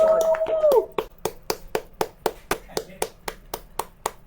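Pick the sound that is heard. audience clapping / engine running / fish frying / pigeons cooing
audience clapping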